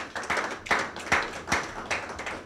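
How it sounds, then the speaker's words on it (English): A small audience claps sparsely at a board inauguration ceremony, a handful of distinct, fairly quiet hand claps in an uneven rhythm with no talking. "Give me a round of applause"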